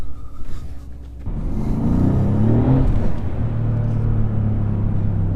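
A 2017 Mercedes C63S engine rumbles and builds from inside the car on a tight road, a brief quieter stretch giving way to a loud, sustained deep growl as it accelerates.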